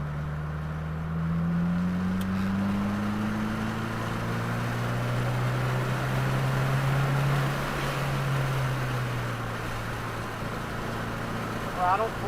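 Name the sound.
Subaru WRX engine at full throttle on a race track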